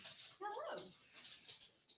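A dog gives a faint, brief bark or yelp, with soft, distant background noise around it.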